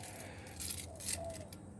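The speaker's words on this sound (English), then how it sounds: "So I always have my house keys on me, and I've added a few things onto it." House keys on a keyring, with a few extra items attached, jangle in short metallic bursts of clinking, close and fairly quiet, over a soft background.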